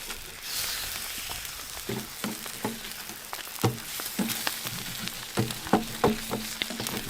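Eggs fry on a camp stove in a tent during fall wind and rain, giving a soft continuous sizzle broken by scattered pops and crackles, fairly close and quiet, with no talk.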